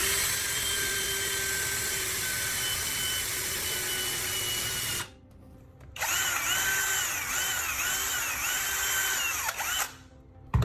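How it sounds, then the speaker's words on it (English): A power drill bores through a PVC handle and the matching PVC cap, whining steadily up close for about five seconds, stopping briefly, then running again at a strained, wavering pitch before a short pause and a final burst. "you drill a small hole through the center of the handle you just built"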